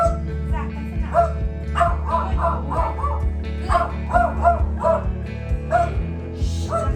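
A dog indoors barks repeatedly in short bursts of yips and woofs, close and fairly loud, with pauses between the barks.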